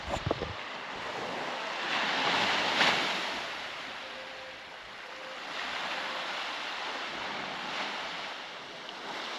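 Surf washing ashore at Castara Beach, a fishing village in Tobago, heard as a steady broad wash with gentle swells rising and falling, mixed with wind buffeting the microphone and no voices.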